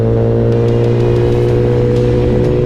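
A Kawasaki ZX10R superbike engine hums loud and close with the throttle opened, holding a steady, rich droning tone that climbs slightly in pitch toward the end.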